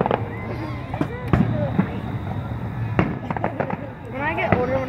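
Fireworks at a river fest in 2017 crack and boom in a rapid series of sharp bursts with crackling tails. Voices of people talking close by are mixed in throughout.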